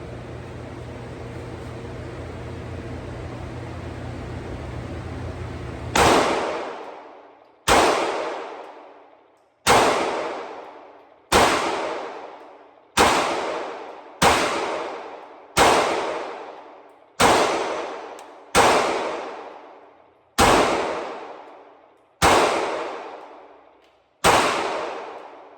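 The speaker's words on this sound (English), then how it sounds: "So let me gear up and targets downrange, and we'll give it a few shots." A Hellcat Pro handgun fires eleven loud, sharp shots at targets downrange at an outdoor range, each crack decaying with echo, spaced roughly a second or two apart after a stretch of steady background noise.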